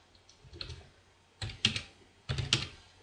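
Short bursts of keyboard typing entering a validation rule in a Microsoft Access table, three clusters of quick close clicks separated by brief pauses, with no talking.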